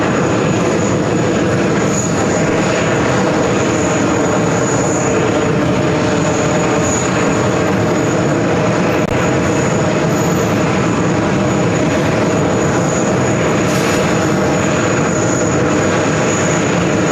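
Boeing 787-9 Dreamliner in special livery taking off on runway 31 left at JFK, a loud sustained engine roar with a high whine, steady and close throughout with no voices.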